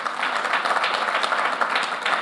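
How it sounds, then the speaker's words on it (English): A large crowd at a corporate leadership summit in India applauds, a dense, even wash of clapping from a big audience that holds steady at moderate loudness for the whole stretch. "So I would request for a big round of applause again."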